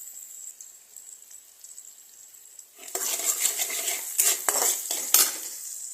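Onions with a little salt fry in a pan for tomato fish, starting as a faint sizzle, then a spatula scrapes and clinks against the pan in several quick bursts, close by.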